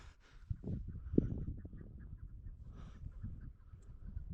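A red-legged partridge calls from lower ground on a hunting outing, a series of short, rhythmic clucking notes at moderate distance, fairly faint against quiet outdoor background.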